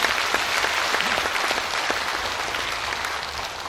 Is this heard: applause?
yes